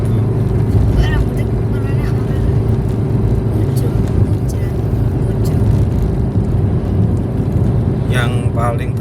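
A 2010 Kia Picanto engine runs steadily in second gear at about 3000 RPM while driving, a loud, constant drone with road noise throughout and a few brief higher noises near the end.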